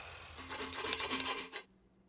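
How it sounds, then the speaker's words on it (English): A chop saw cuts a steel driveshaft tube for a GMC K1500 4x4: a loud, close, harsh grinding rasp lasts about a second and a half and then stops abruptly, with no talking. "I like to use a chop saw for straight cuts on tube rather than a bandsaw since the blade tends to walk"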